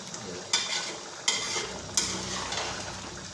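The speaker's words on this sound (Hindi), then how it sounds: "ये देखिए चावल पुलाव हमारा पक रहा है।" Beef pulao rice cooks in a pot with a steady sizzle, broken by three sharp stirring or scraping strokes.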